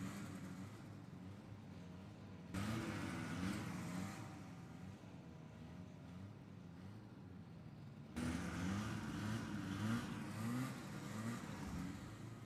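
A racing hovercraft's lift engine drones steadily at a race meeting, a continuous mid-pitched engine hum with slight surges in level, heard from a distance and without the thrust engine.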